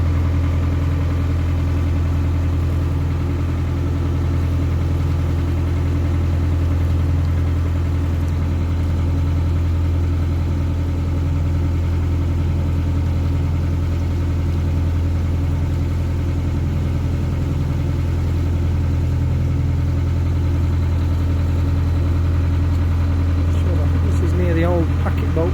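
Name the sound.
smoking engine idling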